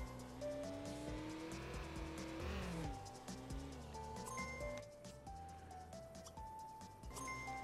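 Racing car engine in a video game drives steadily forward with rising and falling tones and tire squeal. It stays loud and continuous, with music-like tones layered over it.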